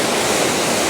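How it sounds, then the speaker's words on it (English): A roaring waterfall, loud and close, a dense continuous rush of water with no other sounds. "This waterfall's insane."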